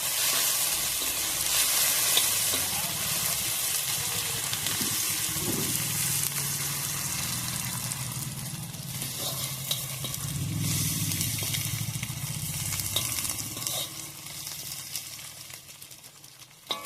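Spices fry in hot oil for an evening snack, a steady broad sizzle close and fairly loud, with soft stirring and low bubbling underneath the whole time.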